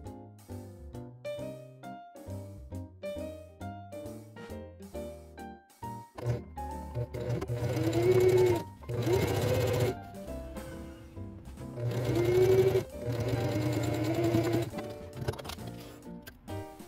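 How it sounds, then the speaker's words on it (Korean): A sewing machine stitching a dart along a marked line on a one-collar shirt, a close, steady whirring run with rhythmic needle thumps, starting in short spurts and then running continuously in longer bursts. "이 선을 따라서 재봉해 줄게요."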